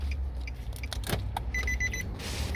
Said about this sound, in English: let me turn the ignition off